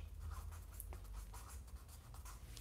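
A hashtag handwritten by pen on a car perspective sketch, with faint scratchy strokes across paper over a low background hum.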